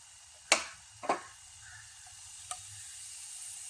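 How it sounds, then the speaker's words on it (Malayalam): Fried mustard seed tempering poured into avial makes a few sharp sizzling bursts, two loud close splashes followed by a smaller one, then a faint lingering hiss. "ഇതിലേക്ക് നമുക്കിനി കടുക് വറുത്ത് ഒഴിച്ചു കൊടുക്കാം"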